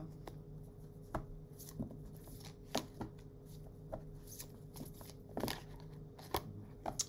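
Tarot cards drawn and laid out one by one, giving soft, sparse taps and brief papery slides over a quiet room tone, with no voices.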